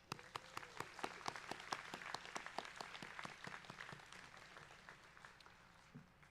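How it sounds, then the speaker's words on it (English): A commencement crowd at Woodbury University's Class of 2024 ceremony applauds the student speakers, distinct sharp claps ringing out in a steady patter that thins and fades toward the end. "give them another round of applause"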